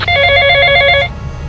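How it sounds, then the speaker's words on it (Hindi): Steady electronic telephone ringing, loud and close, pulses rapidly for about a second after a number is dialed, then cuts off into a low background rumble. "उसने फ़ोन मिलाया"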